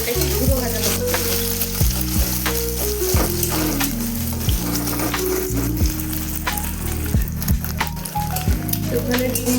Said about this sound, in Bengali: ডিমটা ফাটিয়ে দিয়েছি, একটু সামান্য নুন দিয়ে দেবো। এটাকে ঘুরো ভাজা করতে হবে।